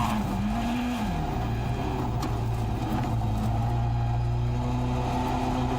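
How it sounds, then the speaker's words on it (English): Rovanperä's WRC rally car on a stage of the Acropolis Rally in Greece, its engine note rising and falling through gear changes as it passes, with tyre scrabble and a steady loud drone. "That is Rovanperä through then, former winner of this event"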